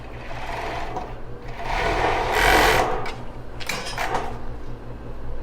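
A sewing machine runs in quick whirring bursts as it stitches elastic lace along the edge of a bra, pausing and restarting, close and loud with no talk.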